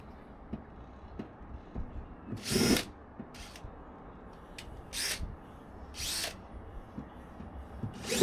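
Several short bursts of a power drill whining at high speed as it drills out pop rivets inside a camper van, separated by pauses, against quiet background clatter.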